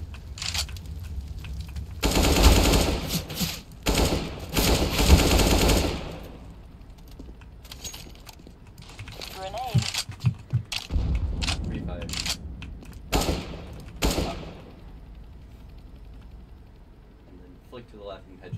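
Bursts of gunfire in the video game CS:GO crackle through a busy competitive wingman match, some rapid and dense, others single shots, while players talk over the action.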